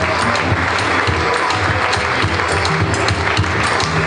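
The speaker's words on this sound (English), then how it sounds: "round of applause for Khalifa" Sustained applause fills an awards ceremony hall for Khalifa, dense and steady clapping from a large crowd throughout.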